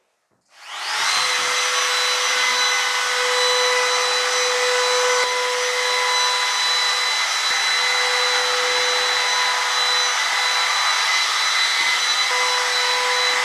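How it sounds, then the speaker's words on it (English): A Makita router trimmer with a 1.6 micro round cutter rounds off birch edges on a large workbench, spinning up to a loud, steady high whine that holds for over ten seconds, with no talking. "we just use like a little Makita router trimmer"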